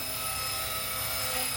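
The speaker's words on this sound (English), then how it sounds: "it's loud, it's intimidating, but I promise you this is one of the easiest helicopters you will ever fly" A JCZK 300c Pro all-metal RC helicopter runs at close range with a loud, steady, high-pitched whine of its rotor and motor. The sound is continuous and harsh, with no speech over it.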